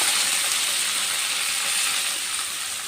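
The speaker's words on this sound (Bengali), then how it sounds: "এবার আমি চালটা ভালো করে ভেজে নেব" Washed rice fries in hot oil with whole spices such as cloves and cardamom, giving a steady, close, dense sizzling hiss that barely changes across the moment.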